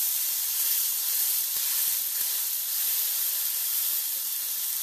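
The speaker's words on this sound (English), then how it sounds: "Sizzling away nicely." Food fries in a pan with a steady, close sizzle and hiss that keeps up the whole time, broken by a few soft low knocks.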